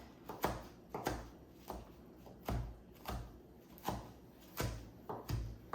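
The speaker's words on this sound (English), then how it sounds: "Now we're gonna take the mince and we're gonna roughly chop it." A knife roughly chopping a pile of herbs such as cilantro on a cutting board, with steady, evenly spaced thuds about twice per second. The close, dull knocks are heard alone with no voices.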